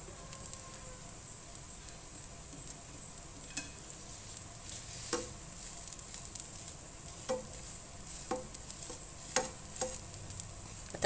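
Black gram thosai cooking on a hot pan with a little oil, a soft steady sizzle with occasional faint ticks and pops throughout.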